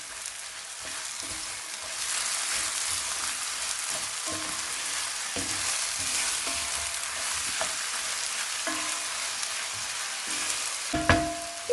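Sliced chicken breast sizzles and crackles steadily in a hot pan, with occasional stirring clicks and scrapes, loud and close, no voices.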